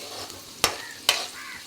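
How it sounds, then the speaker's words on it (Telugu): Onions frying in a pan for a sour gongura dried-fish curry, a soft steady sizzle broken by two sharp clacks of a spoon stirring against the pan. "ఈ ఉల్లిపాయలు అయితే వేగనిద్దామండి."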